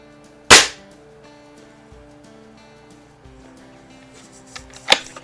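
A Crosman 3100 break barrel pellet rifle fires Crosman 10.5 pellets outdoors, two sharp, loud cracks spaced about four seconds apart, with quiet handling noise between them.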